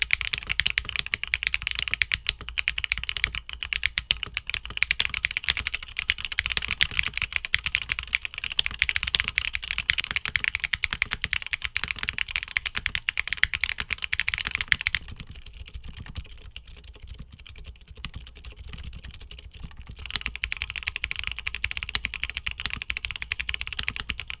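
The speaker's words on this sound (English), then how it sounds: "here are back-to-back sound tests of all the switches we talked about today" Back-to-back sound tests of light tactile mechanical keyboard switches, steady rapid clacky typing close up, with a short quieter stretch partway through before the typing picks up again.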